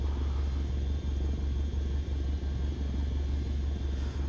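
Grob Tutor T.1 propeller engine in Microsoft Flight Simulator 2020, a steady low droning rumble with a faint rhythmic pulse, continuous and moderately quiet.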